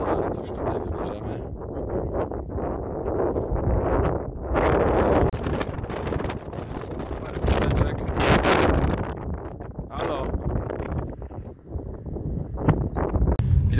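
Gusty wind buffets the microphone outdoors on a scenic mountain stop near Zakopane, a steady broadband roar swelling and easing in surges throughout, with no clear talk over it.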